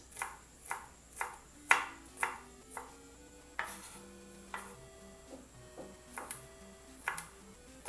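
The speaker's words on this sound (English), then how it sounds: "Next, we're gonna chop them up finely into tiny little bits." Knife chopping crushed garlic cloves finely on a board, a steady series of sharp knocks about twice a second, close and distinct, with faint background music underneath.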